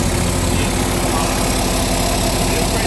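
Diesel engine of an IMER Prestige pump idling just after starting, a loud, steady, rough drone with constant low knocking throughout.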